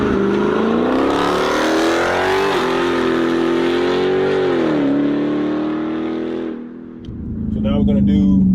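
2018 Dodge Charger Daytona 392 V8 pulling hard on a launch control start, a loud sustained engine roar rising in pitch through the gears, easing briefly before surging again, with a voice talking over it.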